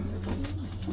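A pigeon, a cock bird being handled during a wing check, gives soft low cooing over a steady hum, close and continuous for the full second.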